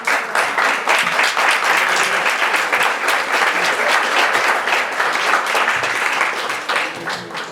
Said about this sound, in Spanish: Brindemos también un fuerte aplauso